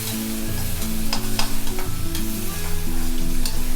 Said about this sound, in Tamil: வெங்காயத்தை ஆட் பண்ணிவிட்டு நம்ம ஸ்டீர் பண்ணி விடலாம்.